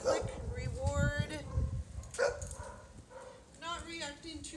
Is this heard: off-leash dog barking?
yes